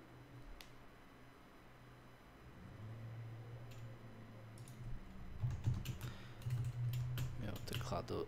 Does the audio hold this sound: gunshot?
no